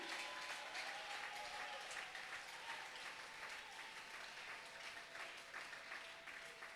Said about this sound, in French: Veux-tu acclamer très fort pour l'évangile?